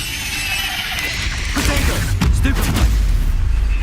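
A Confringo blasting spell goes off in Hogwarts Legacy, two or three loud, booming bursts rolling over a dense, steady game soundscape with no voices.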